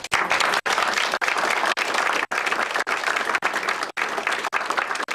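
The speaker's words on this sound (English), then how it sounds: "Could we have a round of applause?" An audience applauds, a dense and steady burst of many hands clapping together at moderate volume, with a few brief dips, and no speech over it.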